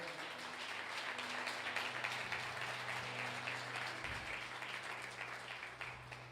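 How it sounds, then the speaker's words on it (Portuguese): Applause from a church congregation during an evening sermon fills the room, a steady patter of clapping with a low hum underneath. "Você pode aplaudir ao Senhor nessa noite?"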